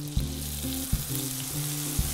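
Lemon juice hits browned lemon slices and butter in a hot pan for lemon sage pasta, setting off a loud, steady sizzle with a few sharp crackling spits, alone and close by.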